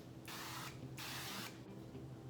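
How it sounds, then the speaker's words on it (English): Three short hissing bursts of canola oil cooking spray, each lasting a fraction of a second, close and fairly soft with brief pauses between. "I like to use a little canola oil cooking spray"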